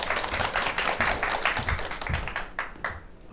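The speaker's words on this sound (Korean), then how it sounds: "박수 부탁드립니다." Audience applause for a professor at a lecture hall event, a brisk patter of many hands that thins out into a few scattered claps at the end.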